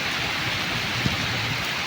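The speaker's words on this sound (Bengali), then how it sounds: "পুকুরে বৃষ্টি পড়ছে" Steady rain falls on a village pond, a dense even hiss of drops on water with a faint low rumble beneath, no voices.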